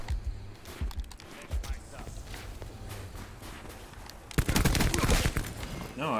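Bursts of gunfire in the shooter game Black Ops 4, scattered shots early then a dense loud volley near the end, with voices talking over the game.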